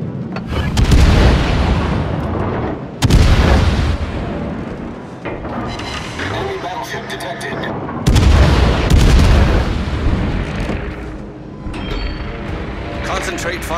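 Warship artillery in a naval video game fires heavy salvos: three loud booms with rolling rumbles, spaced several seconds apart over a continuous din of battle noise.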